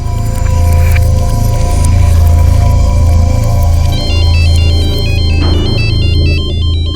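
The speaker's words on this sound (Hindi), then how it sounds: "अरे तो मेरे मोबाइल से फोन आ रहा है।" A mobile phone rings loudly with an incoming call, a repeating electronic ringtone melody over a steady low hum, with a higher chiming pattern joining near the end.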